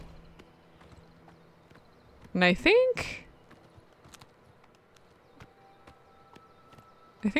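A horse's hooves clop steadily during riding in Oblivion Remastered, a quiet rhythmic beat in the game world, briefly interrupted by someone speaking.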